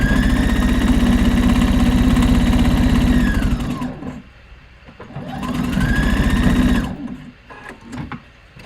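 A sewing machine stitches the opening of a bag, running loud and close in two steady whirring bursts with a rapid mechanical rhythm, separated by a short pause and followed by softer clicks.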